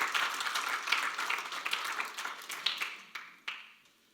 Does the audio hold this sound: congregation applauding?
yes